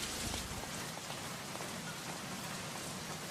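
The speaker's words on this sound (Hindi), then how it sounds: "माथुर, इतनी बारिश में प्रोग्राम कैंसिल नहीं कर सकते थे।" Heavy Mumbai monsoon rain pours down steadily, a dense, continuous hiss of drops drumming on surfaces with no break.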